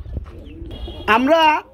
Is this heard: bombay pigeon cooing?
yes